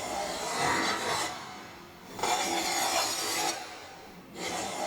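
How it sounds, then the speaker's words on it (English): Deburring the back end of a tungsten electrode for AC TIG welding of aluminum: three long, rasping filing strokes, fairly close and steady, with short pauses between them and no voices. "To avoid cracks, the back should be deburred."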